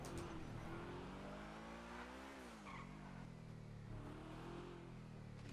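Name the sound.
car engine in video game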